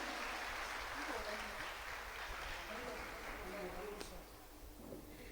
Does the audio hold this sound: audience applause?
yes